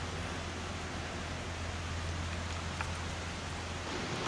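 Steady rain falls on a wet hillside trail near the Cascade Tunnel, a constant even hiss with no pauses and no voices.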